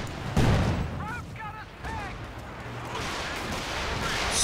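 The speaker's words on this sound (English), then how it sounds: "Stuka barraging again on the right" A Stuka dive bomber barrage lands in a Company of Heroes 2 4v4 match, with a sharp explosive boom, short chirping tones, and scattered distant blasts and gunfire rumbling on afterward.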